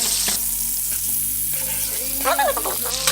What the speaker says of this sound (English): add 4 tablespoons of butter first. Ooh. You hear that sizzle?